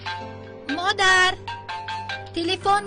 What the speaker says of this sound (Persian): تلفن شما زنگ میزند